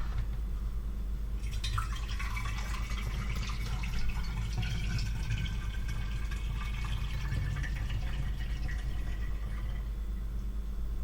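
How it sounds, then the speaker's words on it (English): Liquid pours through a funnel into a bottle, a steady trickling, gurgling stream that starts after a brief pause and runs continuously for several seconds before tapering off. "every wonderful drop goes into the funnel"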